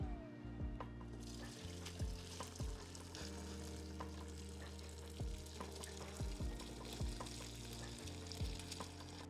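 Chicken stock is poured and strained through a cheesecloth-lined chinois, a steady close trickle and splash of liquid with faint clinks of metal throughout.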